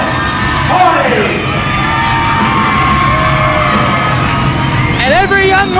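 A loud wrestling arena crowd cheers and screams continuously for a wrestler's entrance, with whoops and shrill yells rising over a dense roar and brief bangs near the start and end.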